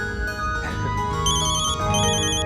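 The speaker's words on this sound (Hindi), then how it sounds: "फोन आ रहा है" A phone ringtone plays a bright, repeating electronic melody, loud and close, with no voices.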